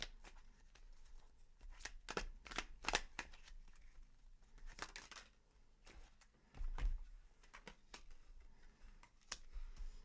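Tarot cards shuffled and drawn by hand, a series of soft, quick riffling and slapping bursts at close range, spaced irregularly across a quiet background.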